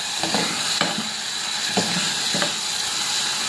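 Sugar caramelizing in oil in a frying pan, a steady close sizzle with a few soft scraping stirs at intervals.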